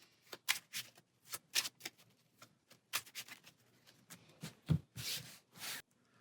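A deck of Marvel Champions playing cards being shuffled in a series of quick, crisp riffling bursts, close up with short pauses between them and no talking.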